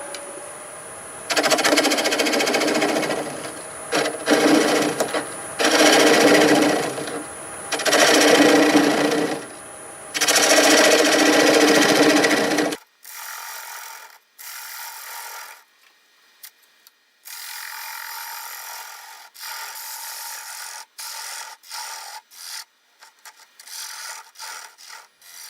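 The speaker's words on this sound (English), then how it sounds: "I'm going to use the 3/8 bowl gouge." Wood lathe turning a multi-axis coffee scoop with a 3/8 bowl gouge: loud bursts of cutting and rubbing in rhythmic passes for about twelve seconds, then quieter, choppier intermittent cuts.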